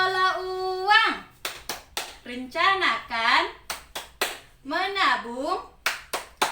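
A group of women doing a rhythmic clapping game about managing money, with sharp, evenly spaced hand claps between bursts of sung and chanted phrases, close and clear.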